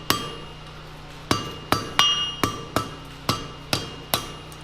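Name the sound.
blacksmith hammering hot metal on anvil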